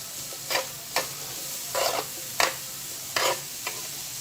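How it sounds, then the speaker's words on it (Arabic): Onions and potatoes sauté in a pan over a steady background sizzle, with six brisk scraping stirs of a spatula at irregular intervals, close and fairly loud. "هننزل بقى بشويه فلفل، البصل الاول، شويه البصل بعدين نشوحها"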